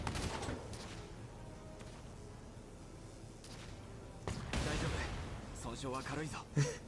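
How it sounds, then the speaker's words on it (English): Crossfire mortars land in Valkyria Chronicles 4 combat, a couple of sharp blasts with a rumbling middle stretch, partly under talking voices. "He got hit by 2 crossfire mortars just instantly."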